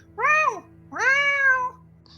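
A person mimics a cat with two drawn-out meows, the second longer, clear and close against a quiet low hum.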